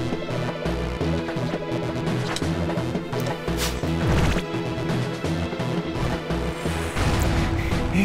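Heart squids smashed by a hammer in Shantae and the Pirate's Curse, a series of crashing thwacks repeated over game music, loud and rhythmic, with no talk.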